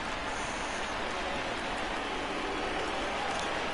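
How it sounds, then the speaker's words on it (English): Heavy rain in the baseball game MLB The Show 20 hisses as a dense, steady wash of noise, unbroken and fairly loud throughout, with no talk. "Well, that rain is really coming down right now."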